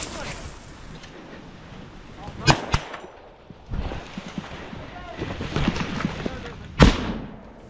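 A grenade thrown into a dugout bursts with a loud, sharp blast, followed by a second explosive crack a few seconds later, amid wind buffeting and outdoor combat noise.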